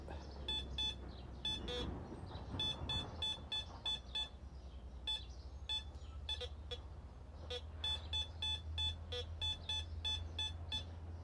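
Repeated high electronic beeps from a metal detector being tested on a coin-sized washer, sounding in quick short bursts and clusters across the clip over a low steady background hum, close and clear with no talking.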